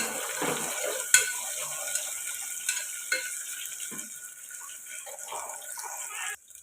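Onions, green chillies and curry leaves fry in a pan while being stirred. The soft continuous sizzle is faint, with occasional scraping strokes from the spoon and no talking.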